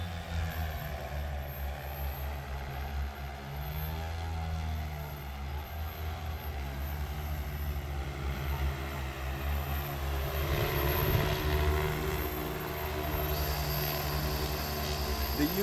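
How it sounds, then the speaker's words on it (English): Aeroseeder U30L agricultural drone flying with steady propeller drone, a continuous broadband whir with tonal engine hum that swells slightly louder toward the end, no talk. "The U30L is a great little drone."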